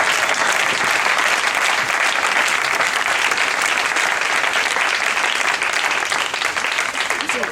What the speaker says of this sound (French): On acclame le Seigneur pour sa vie.